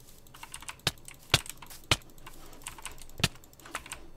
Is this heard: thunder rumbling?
no